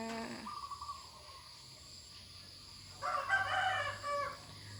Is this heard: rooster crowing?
yes